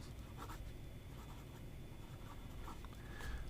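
Gold-nib Hongdian fountain pen writing on paper, a soft continuous scratchy glide of the nib running steadily throughout, close and fairly quiet with no talking.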